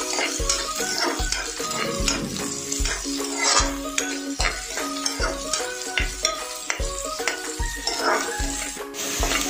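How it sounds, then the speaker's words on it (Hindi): Onions fry in a pan for soya bean pulao, a steady sizzle running under repeated loud scraping and clanking as a utensil stirs against the pan in a regular rhythm. "प्याज को थोड़ा ब्राउन होने तक हम ऐसे ही फ्राई करेंगे"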